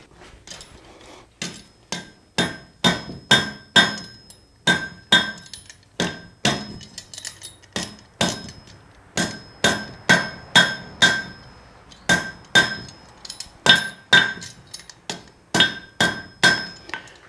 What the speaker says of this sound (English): keep your hammering light to start with until you get a good table